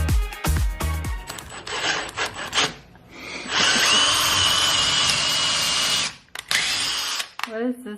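A power drill boring pilot holes into wood while mounting a garage wall shelf, with a few short bursts followed by one long, loud, steady whine, then brief spurts and a wind-down, with voices speaking around it.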